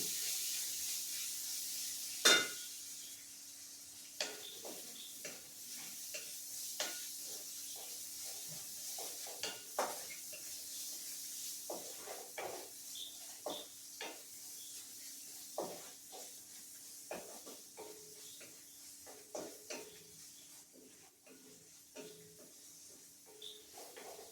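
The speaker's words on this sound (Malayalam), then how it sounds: "ഇഞ്ചിയുടെയും വെളുത്തുള്ളിയുടെയും പച്ച ചുവ മാറുന്നത് വരെ ഒന്ന് വഴറ്റി കൊടുക്കണം." Chopped ginger and garlic sauté in a pan for a beef roast, giving a soft, steady sizzle punctuated by frequent light spatula scrapes and taps over a long quiet stretch without talk.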